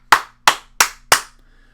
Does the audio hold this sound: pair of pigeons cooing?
no